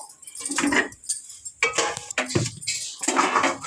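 A metal wok is set down in a kitchen while preparing drumstick flowers for fritters, with several sharp clanks and clatters of pots and utensils in quick, uneven bursts close by.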